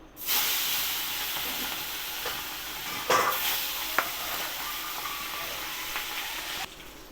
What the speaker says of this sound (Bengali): তেলটা গরম হয়ে গেছে আমি মাছগুলো এক এক করে ভেজে নেবো